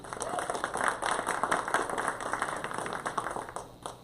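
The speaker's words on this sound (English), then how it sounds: "Give him a round of applause" Audience applause at a military-connected mentorship meetup, steady rapid clapping from a modest crowd, fairly close, tapering off at the end.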